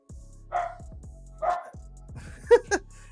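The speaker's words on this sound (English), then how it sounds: "Dogs barking their heads off" Dogs bark indoors during a gaming PC build, three or four sharp separate barks over a low steady hum, fairly close, with no talk.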